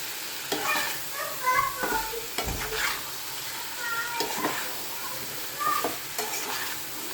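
Taro stolons and potatoes get stirred with a hilsa fish head and spices in a frying pan: a close, steady oily sizzle broken by several scraping stirs of a spatula against the pan, with no talking.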